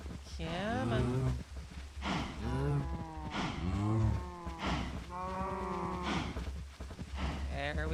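Cows in the Minecraft video game moo over and over, several long, loud, drawn-out calls overlapping one another with hardly a pause between them.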